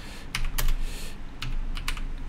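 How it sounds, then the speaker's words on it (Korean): Clicky computer keyboard keys tapped at an uneven pace, a few sharp close strikes spread across a couple of seconds over a quiet background, no speech. "키보드에 이제 B라는 키를 누르시면"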